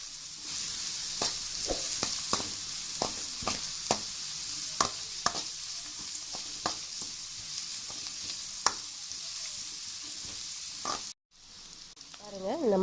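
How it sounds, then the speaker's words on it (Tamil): Finely chopped onions sauté in hot oil while being stirred, a soft steady sizzle punctuated by repeated scraping clicks of a spoon against the pan, with faint speech in the background. "ஸோ அதை உள்ளே போட்டு நல்லா வதக்குங்க எண்ணெயில்."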